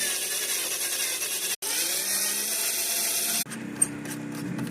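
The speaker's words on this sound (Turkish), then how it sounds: "O yüzden matkapla delmeye başladık ve yeni bir vida yuvası açtık." A power drill boring a new screw hole into a PlayStation 5 chassis, a steady loud whine that stops briefly once and then resumes at a lower pitch, with no talk.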